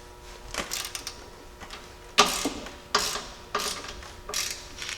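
Ratchet tightening a suspension lift retainer on a Jeep Cherokee XJ during a 3-inch lift install, heard as a series of close mechanical ratcheting clicks in short bursts with pauses.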